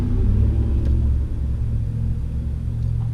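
A non-street-legal track car covered in sponsor stickers, its loud exhaust rumbling in a steady deep idle close by, with no talking.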